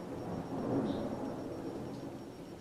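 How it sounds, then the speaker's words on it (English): Low thunder rumbles during rain, a soft rolling swell that peaks early and then fades into a steady, faint background wash. "it's raining where I'm at and the thunder just kind of rumbled"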